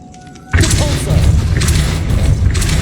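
A Depulso spell cast in Hogwarts Legacy erupts as a sudden loud boom after a quiet moment, followed by a sustained rumbling, crashing wash of force that stays heavy to the end.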